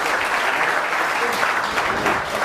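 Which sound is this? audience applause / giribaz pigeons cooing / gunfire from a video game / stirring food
audience applause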